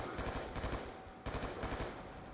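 Rapid automatic gunfire from the Call of Duty zombies map Buried, a dense continuous burst of shots with a brief break midway, loud and alone.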